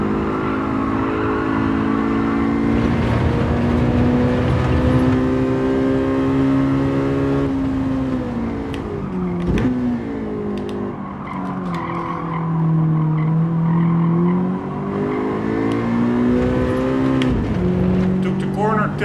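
A race car in Gran Turismo 7 braking into a corner, with a loud, sustained engine whine that drops and rises in pitch amid tire squeal, continuous and close.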